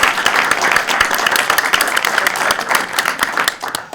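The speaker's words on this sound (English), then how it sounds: "Can I get another round of applause for our contestants here today?" Studio audience applauding contestants at a science quiz show on the elements, dense steady clapping throughout at full loudness with no voices.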